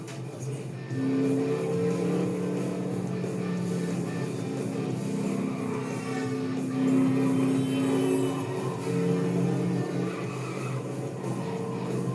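A car drives through the LEGO City Undercover video game, with a steady engine drone running throughout at moderate level under background music and ambience.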